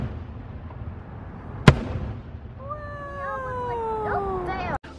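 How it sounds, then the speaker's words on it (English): A nighttime fireworks show at Disneyland: a sharp boom cracks out, then several whistling rockets glide downward in pitch before another abrupt bang, all over a low ambient murmur. "We got to see fireworks from our bedroom, basically."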